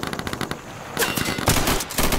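Shotgun fire in the tactical shooter video game Insurgency, a few loud, close blasts in quick succession with sharp attacks and brief gaps, over continuous game background noise.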